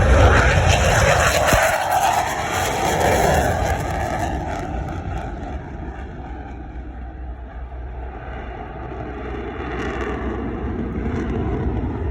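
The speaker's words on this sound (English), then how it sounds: "The Super Hornet!" An F/A-18 Super Hornet roars past at an air show in California, a loud, steady jet engine rumble and broad roar filling the whole clip with no talk over it.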